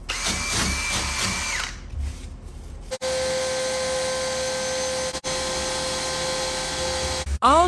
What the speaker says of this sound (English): I'll drill here again.